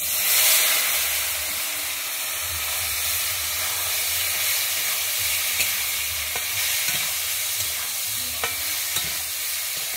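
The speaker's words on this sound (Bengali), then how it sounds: "আমি এই তেলের মধ্যে এবারে সাউরগুলোকে ভেজে নিচ্ছি" Pieces of giant taro root crackle and hiss as they fry in hot oil, a loud, even sizzle close by with occasional stirring clicks and no talking.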